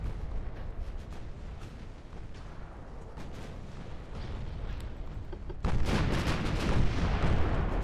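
Battleship guns in the naval game Ultimate Admiral Dreadnoughts fire in repeated booming shots over a rumbling battle din that swells louder toward the end.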